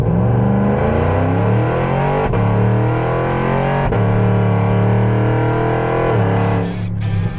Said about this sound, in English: This exhaust system cranks up the volume without that annoying drone.